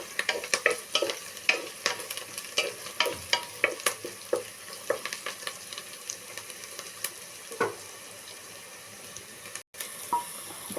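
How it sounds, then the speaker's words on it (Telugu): Onions fry in a pan while a spoon stirs them in quick repeated scrapes and clacks over a constant sizzle, the strokes thinning out toward the end with one brief dropout. "ఉల్లిపాయలు బాగా వేగిపోయినాయి."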